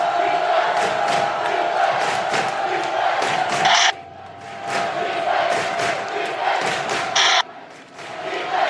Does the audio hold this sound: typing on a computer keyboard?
no